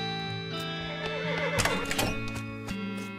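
A horse neighs in the Western RPG West of Loathing, a loud whinny rising from about 1.5 seconds over steady game music and clip-clop effects.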